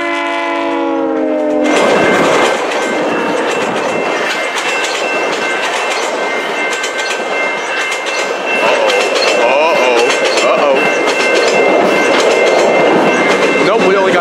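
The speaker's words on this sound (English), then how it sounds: "The train's leaving now" A train departing with its horn blowing at the start, then loud rumbling and clickety-clack of railcars passing close by, with a voice briefly audible beneath the din.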